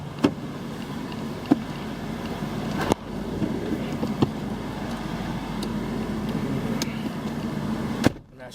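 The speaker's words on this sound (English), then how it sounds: "Vehicle started up with the jump." A retired police 2015 Ford Transit 350 van idles steadily after a jump start, a low constant engine hum with occasional sharp clicks and knocks over it, ending with a brief cut-off.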